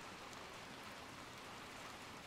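Soft, steady rain falling in the video game Little Nightmares 2, a faint, even patter with no other sounds.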